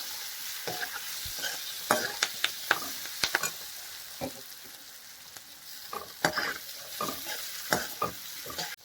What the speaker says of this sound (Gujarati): બટેકાને તેલમાં સરસ ફ્રાય કરી લઈએ।